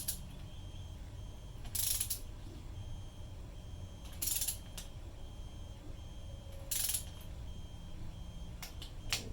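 A torque wrench ratchets on a valve cover bolt of a Mazda B2000, giving three faint bursts of rapid clicking spaced a couple of seconds apart over a quiet background.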